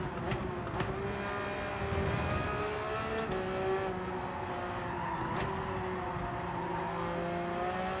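A Ferrari race car in Gran Turismo 7 at Suzuka roars steadily with a sustained engine drone, its pitch rising and shifting through gears, with brief tire squeals now and then and no talk.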